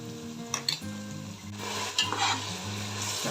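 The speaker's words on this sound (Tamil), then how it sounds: "தக்காளி சேர்த்துட்டு நல்லா வதக்கிடலாம்." Mutton biryani masala with tomatoes sautéing in a pan, a sizzling hiss with metallic spoon scrapes and clanks as it is stirred, backed by a low steady tonal hum and no talk.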